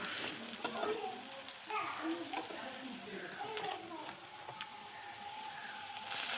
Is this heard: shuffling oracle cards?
no